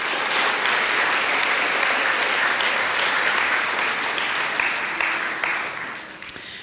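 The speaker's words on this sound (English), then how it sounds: "Let's all give them a round of applause." A large audience at an 8th grade moving-up ceremony gives sustained, dense applause for parent volunteers, steady and loud throughout before tapering slightly near the end.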